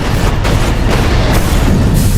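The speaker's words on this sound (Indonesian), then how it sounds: "ledakan besar pun terjadi yang menghancurkan seluruh gedung tersebut" A massive explosion tears through an entire building in a Die Hard 4 action scene, with loud continuous rumbling booms and repeated blasts filling the whole stretch.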